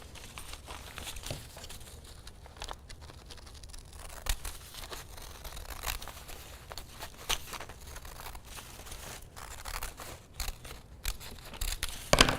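Scissors trim T-shirt fabric up close, sending out a run of crisp snipping cuts and soft fabric rustles in an uneven rhythm, quiet overall and growing a little louder near the end, with no voices.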